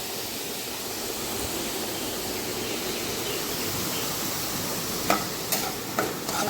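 Onion paste fries in a pan with a constant, even hiss like rushing water, loud and close, and a few sharp utensil clicks near the end.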